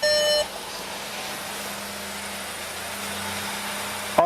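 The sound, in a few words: car engine running while stationary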